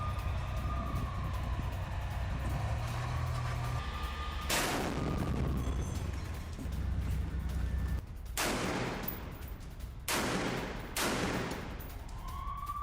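Gunfire and artillery shelling around Jabalia camp: several heavy booming blasts with long rumbling decay, landing one after another over a constant low background rumble.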